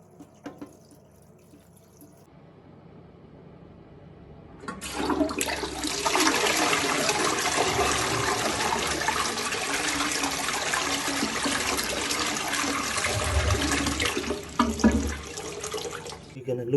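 A dual flush toilet with a faulty syphon flushes loudly and close by. A rushing torrent of water runs steadily for about ten seconds and then tapers into refill trickles, after a quieter lead-in of faint handling sounds.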